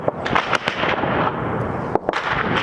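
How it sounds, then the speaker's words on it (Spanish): Sharp explosive bangs and gunshot cracks ring out repeatedly at a moderate distance in Khartoum, Sudan, during fighting, with irregular bursts over a continuous rumbling background. "Las explosiones y los disparos no han dejado de resonar desde hace 10 días en la capital sudanesa Jartum"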